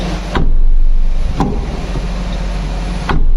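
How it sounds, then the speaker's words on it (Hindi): A Honri 3.0 car door shuts with sharp clunks at three separate moments, heard close over a low steady hum, with no talk. "जब मैंने इसका डोर साउंड चेक किया तो मुझे इसमें काफी प्रीमियम फील आई"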